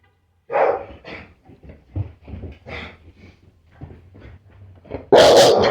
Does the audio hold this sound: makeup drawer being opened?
no